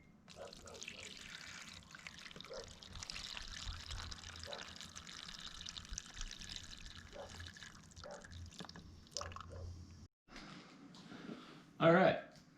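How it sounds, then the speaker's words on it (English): Water poured into seedling trays for bottom watering indoors, a soft continuous trickle and splashing with faint drips, with someone talking over it throughout. "now we're gonna water. You're gonna see why I like to water from the bottom."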